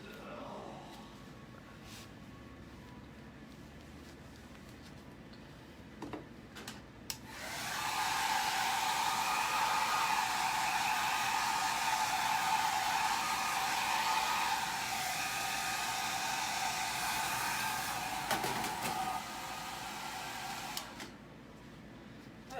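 A hair dryer blows continuously on a large chalk transfer, roaring loud and steady for about fourteen seconds after some quieter handling noises, then cuts off.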